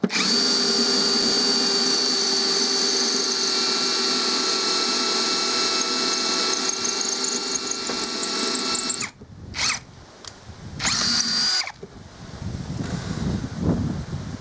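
A PROCRAFT PA 21 Li cordless drill bores into brick in plain drilling mode, a loud steady high-pitched whine that runs alone for about nine seconds, then stops and restarts in a few short bursts with gaps between.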